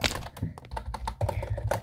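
Quick, close bursts of clicking keys on a Persian-layout computer keyboard, uneven in rhythm with brief pauses between runs of keystrokes.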